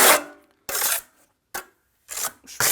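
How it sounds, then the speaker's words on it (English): Flexible tile adhesive being spread on a trowel while preparing a stud wall for tiling, a series of short scraping strokes separated by silent gaps, close and fairly loud. "spreading it out on the trowel like this,"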